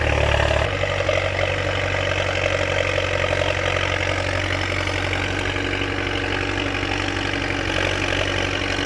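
The heavy diesel engine of a Komatsu-style D50A bulldozer felling rubber trees in hot weather runs steadily and loudly throughout, revved hard and overheating, a constant rumbling drone with a slight shift in pitch near the start.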